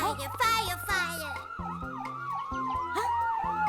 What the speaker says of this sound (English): The fire engine siren. I hope they speed by quickly.